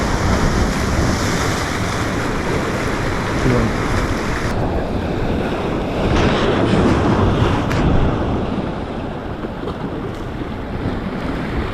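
Strong wind and surf at a shoreline fishing spot on the East Izu coast: continuous loud roaring gusts buffeting the microphone over crashing waves, with no pauses.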